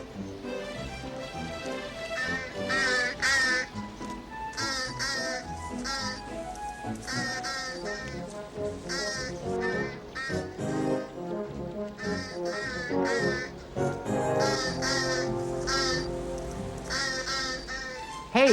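A bird near a hen house makes loud, repeated harsh cawing calls in rapid bursts, mixed with lively background music throughout.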